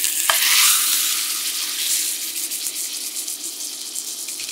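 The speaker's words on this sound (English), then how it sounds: "we're going to take the meat and it's going to like sizzle and spit at you because the pan is so hot" Loud, steady sizzling and spitting of beef searing in a very hot pan of oil, close up, with a few sharp crackles and no talking.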